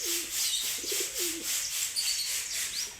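Pigeons coo in a low, rolling rhythm just after flying down from a high rooftop, several soft throaty calls over a steady outdoor hiss, with a few faint chirps from other birds in the background.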